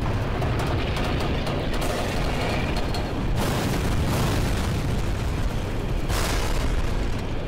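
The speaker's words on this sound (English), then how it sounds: "I'm pretty sure I have to bomb this thingy." Bomb blast in Black Mesa: a dense, sustained roar of explosive rumble with heavy low end, swelling in bursts and staying loud and unbroken throughout.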